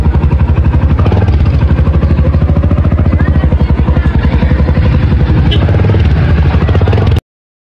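Loud, steady engine drone inside an aircraft during a flight, a continuous throbbing roar that fills the whole stretch, then cuts off abruptly.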